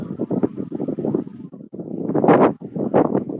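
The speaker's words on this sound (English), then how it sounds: "It's starting to get windy." Loud gusts of wind buffet the microphone in rough, uneven bursts, rumbling and thumping close up.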